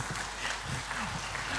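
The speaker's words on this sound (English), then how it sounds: "A round of applause." Applause from a church congregation at a Sunday service, a short burst of steady clapping filling the room, with a voice murmuring faintly underneath.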